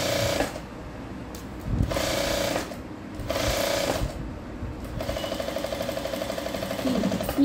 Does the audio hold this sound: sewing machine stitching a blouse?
yes